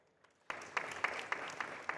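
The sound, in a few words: audience applause welcoming speaker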